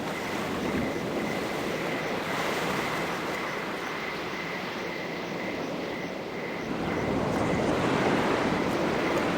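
Continuous seaside ambience from Nibiru: Age of Secrets, with waves surging against the shore and wind blowing steadily, swelling slightly toward the end, close and fairly loud, with no voices.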